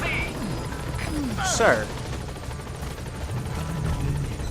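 A support helicopter arrives at a landing zone in the video game Metal Gear Solid V, its rotor noise rumbling under in-game radio chatter and a brief spoken line, with a short swell midway.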